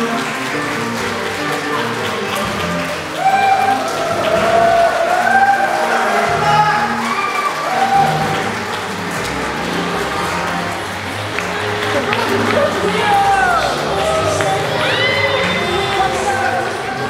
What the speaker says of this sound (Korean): 아낌없는 박수와 힘찬 함성으로 이들 부부를 축복해 주시기 바랍니다